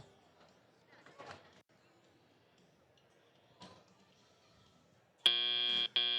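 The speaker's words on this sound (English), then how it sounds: "That buzzer signals the end of Auton while we transition to our driver control period." A loud, sustained electronic buzzer sounds near the end at an FTC robotics competition, marking the end of the autonomous period. It breaks off briefly and then resumes, after faint background noise and brief commentary.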